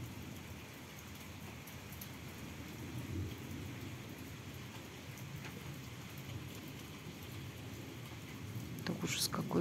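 A thunderstorm that brings hail pours steady rain, with a low rumble of thunder building underneath and a brighter crackle near the end.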